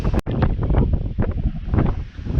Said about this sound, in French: désolé pour le vent parce qu'aujourd'hui c'est une journée très venteuse par rapport aux autres jours